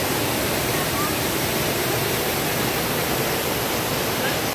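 Laktas Falls waterfall, a close, loud and continuous rush of falling water that holds steady without a break.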